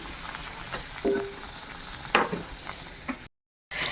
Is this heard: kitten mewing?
no